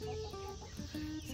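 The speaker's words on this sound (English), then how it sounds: "I must say I love my chickens." Backyard chickens clucking inside their coop on a quiet day, a steady overlapping murmur of soft clucks and calls, moderately close and fairly faint, with no talking.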